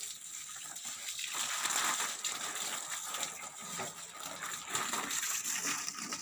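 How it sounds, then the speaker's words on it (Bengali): Fresh water gushes and splashes steadily while a temple is washed down and vessels are filled for worship, a continuous close wash of running water with no talk. "দেখো জল ভরা হয়ে যাচ্ছে।"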